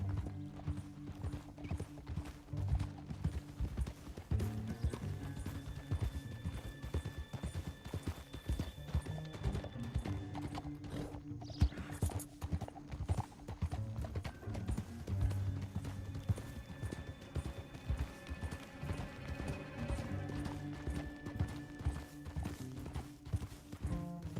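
Galloping horse hooves from Red Dead Redemption 2 pound in a fast, continuous rhythm under a busy game soundscape, with neighs and some mechanical rattling mixed in.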